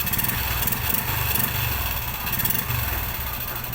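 A Honda RS 125 motorcycle engine runs after piston replacement and cleaning, a close, loud two-stroke putter with a rapid pulsing beat and slight unevenness, heard alone without talk.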